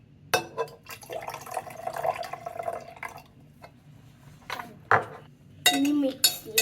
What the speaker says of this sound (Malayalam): എന്നിട്ട് ഈ വെള്ളം ഒഴിക്കണം.